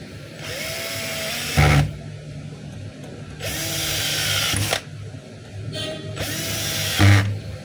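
A power driver tightens screws on a DeWalt D25032 rotary hammer, running in three whirring bursts, each ending with a sharp clunk.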